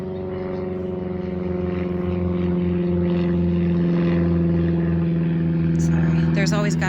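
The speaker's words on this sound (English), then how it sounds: "There's always got to be a plane in the video, doesn't there?" A propeller airplane drones overhead above a backyard cottage garden, a loud, steady low hum with strong tonal layers that swells slightly as it passes, with a brief bird chirp near the end.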